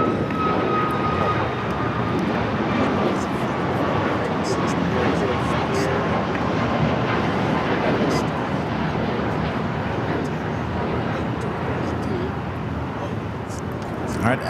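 A jet airliner takes off from runway 25 right at Los Angeles LAX, a continuous broad engine roar that holds steady throughout, with radio voices talking over it.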